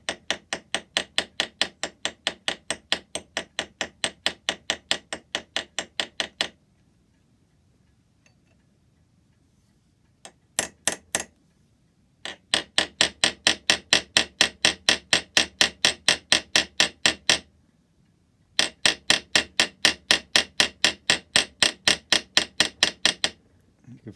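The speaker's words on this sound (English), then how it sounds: "I've just got a little punch to make sure it's down on the shoulder. Just rivet that over." A small punch struck with a hammer to rivet a part of an antique clock's cut cupboard lock gives long runs of rapid, evenly spaced sharp metallic taps, close and loud, broken by several pauses.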